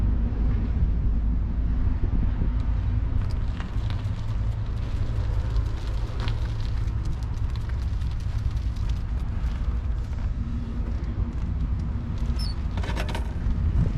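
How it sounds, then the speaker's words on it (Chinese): Strong wind buffets an outdoor spot on the outskirts of Urumqi beside a wall, a constant loud low roar of gusts hitting the microphone for the whole stretch, with no talk over it. "外面现在风很大，只有这个墙跟前能挡点风。"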